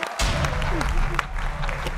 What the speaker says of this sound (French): applaudissez pour Marco